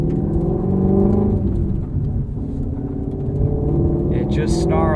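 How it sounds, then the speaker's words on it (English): A 2020 Ford Mustang Shelby GT350R engine growls steadily in the cabin while driving, with its low rumble running loud and continuous and a brief rise in pitch near the end. "It just snarls through every driving situation."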